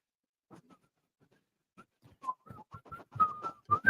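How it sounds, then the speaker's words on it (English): Short whistled notes, faint at first and growing louder and quicker, forming a rising, tuneful run of bright tones. "Keep up that whistling."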